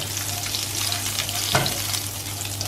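Whole spices frying in hot oil for egg korma, a steady close sizzle throughout with one brief louder stir or crackle partway through, no voices.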